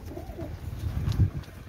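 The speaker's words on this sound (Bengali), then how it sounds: "অনেক ভালো মানের কবুতর, ব্ল্যাক সাহারানপুরি" A black Saharanpuri pigeon with black feathers and a black tail coos nearby, a low throaty rolling call swelling loudest near the middle of the short stretch, with no speech over it.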